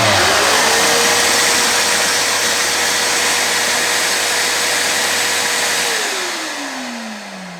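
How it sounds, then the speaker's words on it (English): A Ryobi R15VAC wet and dry shop vac switches itself on with a 350 watt random orbit sander in a workshop: a loud, steady whine and rushing airflow quickly reach full speed, hold, then wind down as the motor coasts off. "So when I start this, it should start the vacuum."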